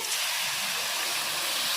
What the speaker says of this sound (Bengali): গরম গরম শুটকির মধ্যে পানি দিয়ে দিয়েছি